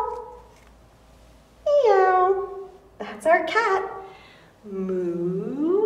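A person's voice imitates a cat meowing in a children's yoga session, giving several drawn-out, pitch-bending meows close to the microphone with short pauses between them.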